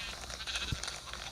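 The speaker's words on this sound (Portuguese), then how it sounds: "Os lobos vêm com tudo em cima da ovelha." Sheep bleat as wolves attack them in a Minecraft-style video game, a brief nasal bleat standing out over a dense, noisy game soundscape.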